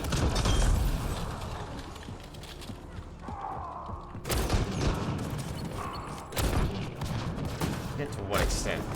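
Flak cannon blasts in Mass Effect Andromeda multiplayer: several loud, sharp bursts several seconds apart over dense, busy combat noise, with someone talking throughout.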